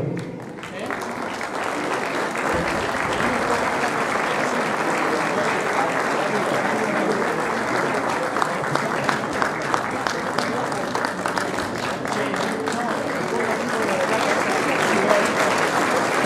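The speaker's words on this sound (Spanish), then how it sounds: "Muchas gracias por estos aplausos también" Sustained, dense applause fills a hall at the Club Villa Mitre centenary ceremony as an arch is handed over, steady for the whole stretch with brief murmurs from the crowd beneath the clapping.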